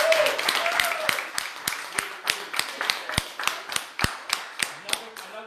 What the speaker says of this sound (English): You guys clap it for Victor the Dodge right here